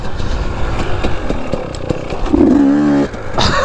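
A dirt bike engine idles and then revs up sharply during a wheelie attempt, a close, loud motor with a rising pitch near the middle before it drops back to a rough idle.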